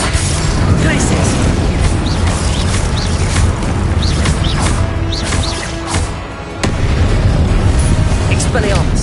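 Confringo blasting spell explosions in Hogwarts Legacy: a dense, loud, continuous wash of booming blasts, crackles and combat effects with magical whooshes, a brief dip near the end before the barrage resumes, with voices over it.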